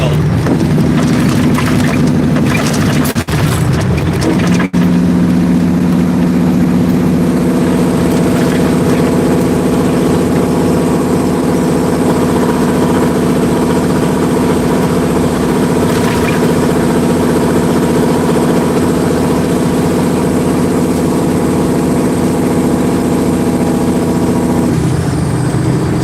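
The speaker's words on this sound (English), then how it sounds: "it might be a little loud because I'm going to run my Jake brakes all the way down" A truck runs its Jake brake while descending a hill, a loud, steady, droning engine rumble with strong low tones that holds for the whole stretch, close up and uninterrupted.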